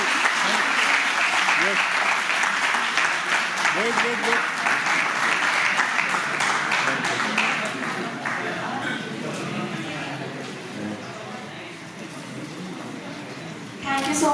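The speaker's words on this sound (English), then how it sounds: "Keep the applause going, folks" Sustained audience applause at a university graduate scholars' talk series in Delhi, dense and loud at first, then softening, with voices talking over the later part.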